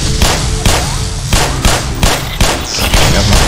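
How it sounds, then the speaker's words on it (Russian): Rapid bursts of gunfire in the video game Half-Life: Black Mesa, loud and close, with repeated sharp shots in clustered volleys across the whole stretch and no voice over them. "что здесь стреляют"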